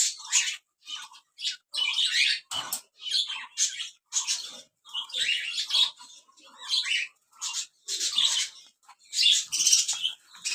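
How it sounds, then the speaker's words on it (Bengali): Caged zebra finches and a golden finch chirp in quick, bright bursts of high tweets and squeaks, close and fairly loud, with short pauses between the flurries. "এই সাইডে এক জোড়া জেব্রা ফিন্স আছে। এই সাইডে একটা গোল্ডেন ফিন্স আছে।"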